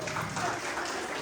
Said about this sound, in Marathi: या सगळ्या वहिनीसाठी जरा जोरात टाळ्या वाजवा